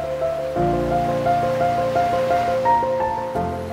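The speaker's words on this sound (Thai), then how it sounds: "มหาสมุทรจรดผืนฟ้าเกลียวคลื่นจรดผืนทราย" Ocean waves rush steadily onto a sandy beach at Phuket beneath a melodic musical tone, a continuous loud wash of surf without pauses.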